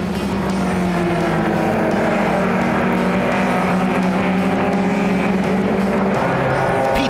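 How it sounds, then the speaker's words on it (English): A Datsun race car passing another car on a circuit during a motor race, a loud, continuous engine roar with high whine and tire noise, captured close and steady with no pauses. "We see Wesley Rautenbach in his Datsun pass Quinton Willis as he works his way up the order"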